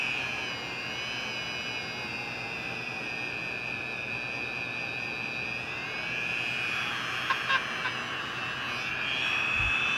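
A Dremel rotary tool buffs a dog's nail with a steady high-pitched whine that holds for several seconds, broken by a couple of brief clicks from its lock button being pressed.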